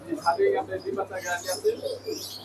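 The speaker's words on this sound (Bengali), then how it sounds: "আর এখানে জোড়া জোড়া কবুতর আছে" Pigeons coo softly in a shop at Jinjira market, with low, faint murmuring calls mixed under nearby human talk.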